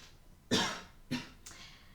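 Three harsh, wet coughs in quick succession as a person coughs up water from the lungs, the first loudest and the following two weaker, close by with no talking.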